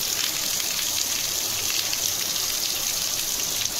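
Heavy rain pours down outdoors in a steady, dense hiss that continues unbroken throughout, with no voices over it.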